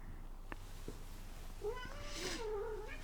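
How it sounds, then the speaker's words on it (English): A house cat meows for attention, a clear drawn-out meow rising and falling near the mic over a low background hum, with a faint click or two before it. "my cat wants my attention"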